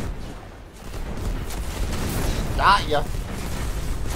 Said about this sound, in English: Missiles going everywhere. Explosions all around.